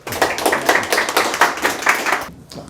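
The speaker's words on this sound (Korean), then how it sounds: "박수를 좀 맞아주십시오" Audience at a tax lecture applauds steadily for a couple of seconds, a dense burst of clapping that tapers off abruptly near the end.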